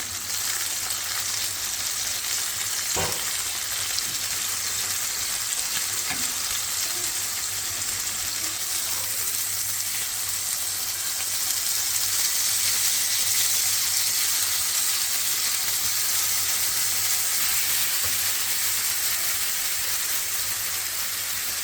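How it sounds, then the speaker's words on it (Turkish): Steady, close sizzling of garlic cloves frying in a pan, a continuous hiss with a faint clink partway through; no one speaks. "İçine 4 diş sarımsak atıyorum. Arkalı kızartıyoruz."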